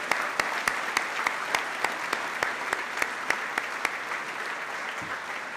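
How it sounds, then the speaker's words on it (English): An awards banquet crowd applauds the parents with dense continuous clapping, while one nearby pair of hands claps sharply in a steady, regular beat above the rest. "I'd like to give the parents a round of applause"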